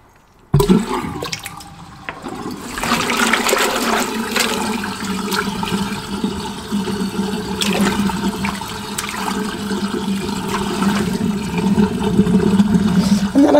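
Running water pours steadily from a kitchen tap while beans are rinsed, a loud continuous rush with splashing after an abrupt start.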